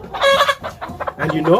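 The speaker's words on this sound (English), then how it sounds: "this is the sound of a chicken which is about to lay" Hen clucking just before laying an egg, a close, loud run of bursts of clucks and drawn-out calls over a voice talking.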